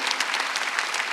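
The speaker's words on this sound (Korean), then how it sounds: "박수 세게 쳐봐요" Church congregation clapping loudly during a Sunday worship service, a dense, vigorous burst of many hands clapping together, close and full with no break.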